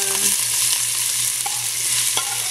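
Onions sizzling and frying steadily in hot oil for a Trinidadian curry of long beans, a loud continuous crackle with occasional stirring scrapes, no voices.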